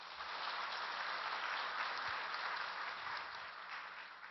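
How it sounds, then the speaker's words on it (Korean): Sustained applause from a church congregation welcoming a missionary family during a Sunday morning service, steady and full for several seconds without letting up. "박수로 환영하겠습니다"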